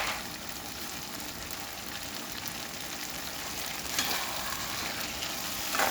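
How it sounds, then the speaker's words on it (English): Saltfish and tomato frying in a pot while being stirred, a steady close sizzle with scraping stir movements, no talking. "Now we're gonna stir"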